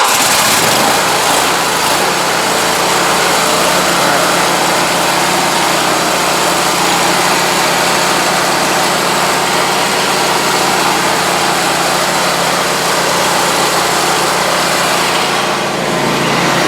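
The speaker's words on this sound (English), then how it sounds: "When you start the engine, I pump it a little bit because it should start pretty good." Small gasoline engine on a trash bin-cleaning rig starts with a brief sputter, then settles into a loud, steady close-up idle that runs unbroken for the full length with no talking over it.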